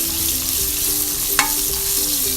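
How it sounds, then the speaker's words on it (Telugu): Medium-sized bottle gourd pieces stirred and frying in a pan for a gourd pulusu, a steady soft sizzle with faint utensil scrapes and one brief sharper clink, no voices. "ఇప్పుడు మన సొరకాయ ముక్కల్ని ఇందులో యాడ్ చేసుకోవాలి"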